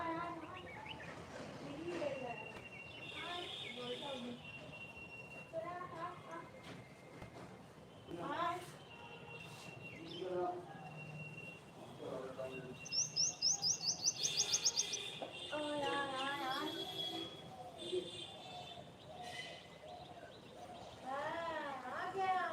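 Birds call busily and repeatedly at close range, a mix of chirps, trilling tweets and a rapid pulsed chatter, with a person's voice now and then alongside.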